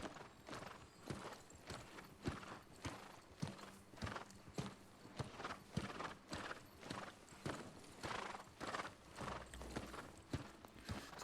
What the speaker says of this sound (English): It's a good thing I have a horse